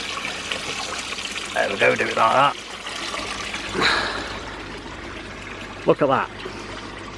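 An aquarium pump's water return pours into a tank just below the surface, giving a steady close trickle and splash that runs throughout while someone talks over it.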